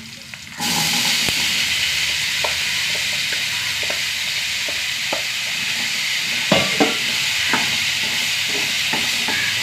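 Potatoes sizzling steadily in hot oil in a frying pan with curry leaves, a continuous close frying hiss with occasional stirring clicks and scrapes throughout, no talking.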